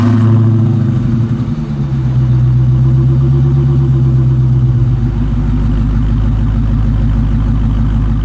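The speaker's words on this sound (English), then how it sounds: "when you start this car up, you should know the exhaust note just at idle is really loud." A 2021 Dodge Charger SRT Hellcat Redeye sits at idle, its exhaust a loud, deep, steady rumble with a slight lope, heard close up and alone after a brief rev at the start.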